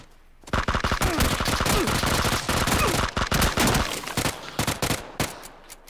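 Gunfire in PUBG: dense, loud, rapid bursts of shots firing almost continuously for several seconds, then thinning out toward the end.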